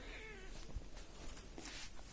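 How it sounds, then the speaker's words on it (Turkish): A cat meows indoors, several drawn-out wavering cries spread across the moment, faint and close, with no talking. "Evet bu da ikinci kedim."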